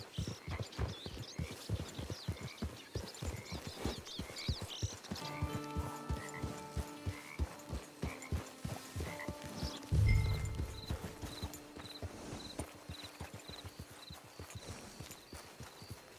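Horse hooves clip-clop in a quick, rhythmic gait across the ground in the Red Dead Redemption 2 online mode, close and continuous, with a whinny and soft musical tones in the background.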